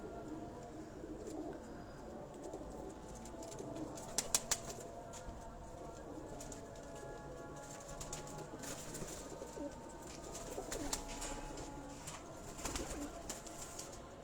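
Pigeons coo repeatedly on a rooftop at Golra Sharif, with wing flaps and clattering bursts from the flock, soft background voices and ambient noise throughout.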